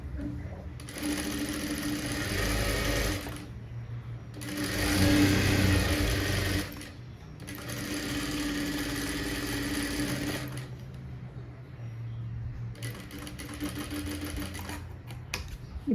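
An electric sewing machine stitches a blouse front piece in bursts, its whirring motor running for a few seconds, pausing, then starting again, with quieter stretches between runs.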